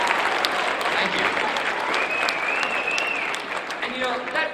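Audience applause from a seated crowd at a talk, steady clapping throughout with brief speech over it.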